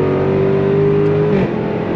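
Jaguar F-Type R 75 sports car engine droning at a steady, loud pitch, then dipping sharply as a fast gear shift cuts in before the note settles again, with no voices over it.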